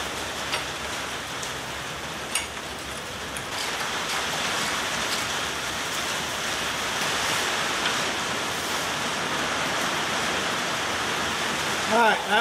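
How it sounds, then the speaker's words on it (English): Steady broadband hiss of rain drumming on a garage roof during work on a 1965 Chevrolet C10 truck, continuous and fairly loud for the whole stretch, with a brief knock near the start. "we got some rain, so it's a little noisy in here"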